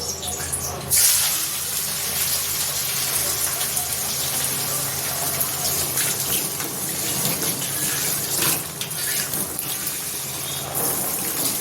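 Water pours steadily into a pot of boiled potatoes with a continuous close gushing flow, a few sharper splashes breaking the stream.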